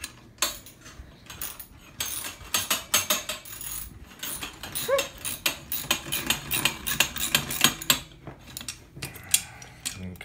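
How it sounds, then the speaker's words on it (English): A socket wrench ratcheting while assembling a futon: loud, close bursts of rapid metallic clicking that come in quick runs with short pauses between them. "Socket wrench."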